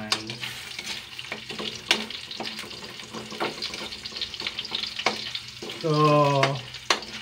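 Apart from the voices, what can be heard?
sautéing garlic and onion in a pan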